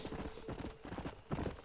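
Hooves clip-clop in a steady trotting rhythm in Red Dead Redemption, fairly close and moderately loud, with no talking.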